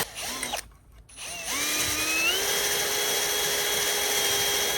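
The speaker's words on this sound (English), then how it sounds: "So I actually drilled this, I think it's an 8mm" A power drill bores a pilot hole during repairs on a wrecked Jaguar F-Type, with short whirring revs and a pause before it spins up into a loud, steady high-pitched whine.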